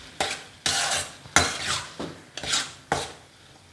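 A spoon scrapes and stirs tomato chutney with turmeric and salt in a pan, five distinct scraping strokes at an even rhythm, close and clear with no talking.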